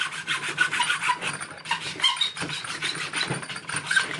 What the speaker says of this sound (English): A little bit of filing.